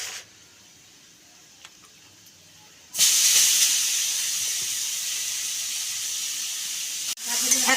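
Grated carrots drop into a hot pan for carrot halwa, setting off a loud, steady steamy hiss that starts abruptly, runs for about four seconds and cuts off briefly before resuming.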